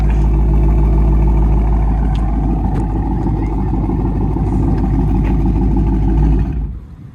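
Dodge Charger RT V8 with a modified exhaust idles loud and close after a cold start, a steady deep rumble with lumpy pulsing that holds for several seconds before cutting off abruptly near the end.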